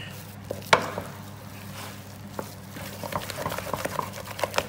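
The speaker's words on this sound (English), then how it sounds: "I'm not afraid to beat this and really, really work it to make a nice creamy mash" Wooden spoon beating and working milk, butter and salt into mashed potatoes for a cottage pie, giving soft irregular knocks and squelchy stirring, close and fairly quiet.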